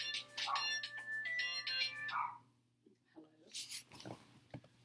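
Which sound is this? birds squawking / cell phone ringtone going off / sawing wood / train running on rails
cell phone ringtone going off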